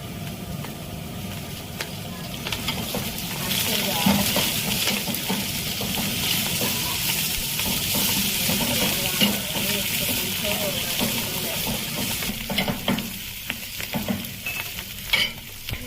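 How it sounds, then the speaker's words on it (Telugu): Onions frying in oil in a pot until golden brown, for a village-style Rayalseema mutton gravy, with steady sizzling and occasional stirring throughout, and a brief murmur of talk in the background. "ఫస్ట్ ఆయిల్లో ఆనియన్స్ బాగా బ్రౌన్ అయ్యేలాగా ఫ్రై చేసుకోవాలి."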